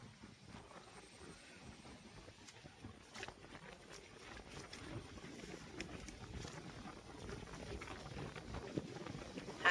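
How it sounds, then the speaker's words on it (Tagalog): Wind blowing steadily across open farmland at a subdivided lot, a broad low rushing that stays fairly faint and constant, swelling slightly toward the end, with no talk. "Hangin."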